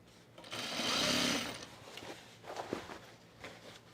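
Sewing machine stitching the side seam of denim jean shorts, a brief steady run of about a second that starts and stops, followed by quieter handling sounds.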